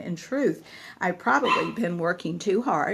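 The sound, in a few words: dog barking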